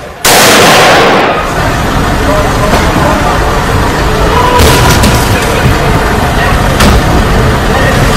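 Gunshots in news footage of the Paris attack in which a police officer is shot in the street: a loud booming blast followed by sustained noisy rumble with several sharp cracks, harsh and distorted, with voices under it.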